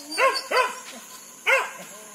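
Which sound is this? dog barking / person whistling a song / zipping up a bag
dog barking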